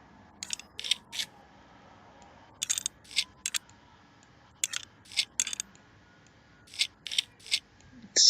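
Motherboard screws are fastened in PC Building Simulator, heard as short clicky ratcheting bursts in small clusters separated by quiet gaps, crisp and close with no voices.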